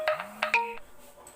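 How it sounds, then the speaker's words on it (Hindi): A mobile phone's ringtone for an incoming call plays briefly and loudly up close, a short run of bright electronic chimes with a rising tone. "ये जो फोन आया था ना ये इंदर का था"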